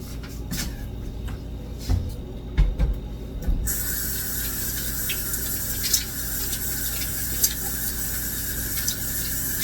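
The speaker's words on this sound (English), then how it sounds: "I need to wash my hands because I'm going to use my hands." A household tap turns on partway through and runs steadily as hands are washed, a close, bright rush of water. A few knocks and clunks come just before it.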